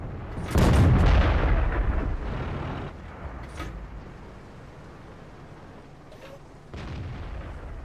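Heavy tank cannon shots in a tank battle game, an IS-2 among the vehicles: a loud booming blast near the start with rumbling decay, a softer distant shot mid-way, and another thud near the end.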